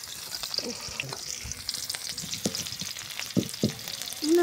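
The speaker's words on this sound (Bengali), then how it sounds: "পেঁয়াজগুলো ভাজা হয়ে গেছে" Onions fry in hot oil in a pan alongside tangra fish with turmeric and salt, a soft sizzle with occasional stirring clatters, fairly quiet.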